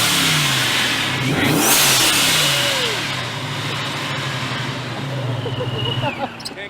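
Supercharged Dodge Challenger engine revving outdoors, a loud rising and falling roar with supercharger whine, settling into a rumbling idle before another rev, with people talking nearby.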